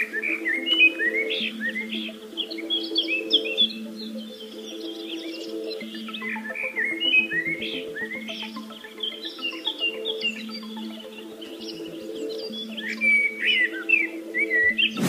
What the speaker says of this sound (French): On décide donc de s'offrir un petit concert de passereaux en pleine nature.